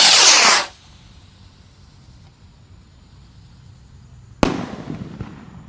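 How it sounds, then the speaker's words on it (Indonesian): A jumbo 1.9-inch Mars rocket firework launches outdoors, with a loud burst of roaring hiss at the start, a quiet gap, then a second sharp bang that trails into crackling. "Kita lihat reaksinya roket Mars siap meluncur."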